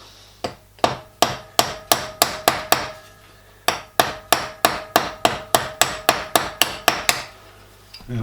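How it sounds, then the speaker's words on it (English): A hammer taps rivets down against a rivet snap held in a vise while building a 5-inch gauge model steam locomotive, with two runs of sharp, evenly spaced metallic strikes, about a dozen each, separated by a short pause. "Tap it down with a hammer."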